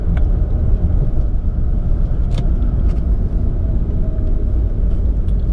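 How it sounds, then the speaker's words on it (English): Steady road rumble from inside an automatic BMW E90 335i slowing toward a traffic light as it downshifts on its own, a continuous low engine and tire drone with a few faint clicks, no voices. "So approaching a light, it's downshifting naturally."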